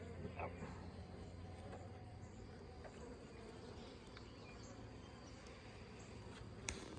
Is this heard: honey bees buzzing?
yes